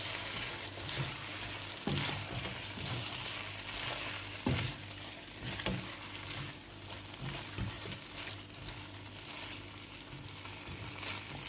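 Chicken karahi sizzles loudly as black pepper is stirred in, with steady frying crackle and occasional scrapes and knocks of a utensil against the pan.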